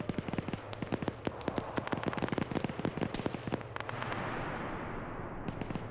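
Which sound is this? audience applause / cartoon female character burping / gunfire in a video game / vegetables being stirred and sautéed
gunfire in a video game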